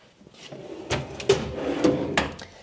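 A wooden drawer slides open with a few scraping thumps and clunks, close by, followed by rattling of items inside.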